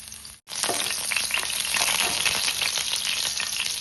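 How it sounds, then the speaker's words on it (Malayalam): Chopped garlic spitting and crackling in hot oil in a pan, a loud, steady close sizzle that starts abruptly after a brief silence and holds without letup. "നമ്മുടെ ഓയിൽ ചൂടായിട്ട് അതിലേക്ക് നമുക്ക് ചെറുതാക്കി അരിഞ്ഞു വെച്ചാൽ വെളുത്തുള്ളി ഒരു 1/2 സ്പൂൺ ഇട്ട് കൊടുക്കുക"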